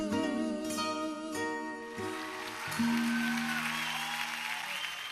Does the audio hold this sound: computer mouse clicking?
no